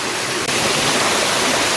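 Loud, steady roar of water rushing down a village stream swollen by monsoon rain, a dense continuous wash close by with no voices.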